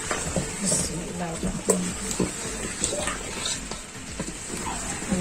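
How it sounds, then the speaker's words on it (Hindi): New potatoes stirred into masala in a pan, with continuous scraping and sizzling under steady kitchen noise, close and moderately loud; a person talks throughout. "चलेंगे हम लोग इनको मिक्स करेंगे अच्छा सा"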